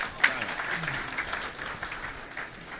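Applause from a mushaira audience in Thane, Hindi-Urdu poetry gathering, a steady patter of clapping hands that swells briefly near the start and then continues evenly at moderate loudness for about three seconds.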